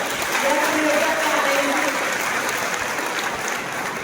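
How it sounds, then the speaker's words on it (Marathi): An audience at a rural farmers' gathering in Latur breaks into loud, sustained clapping, a dense wash of applause that keeps going for several seconds before trailing off at the end. "आपण शेतकऱ्यांसाठी जोरात टाळ्या वाजवूया"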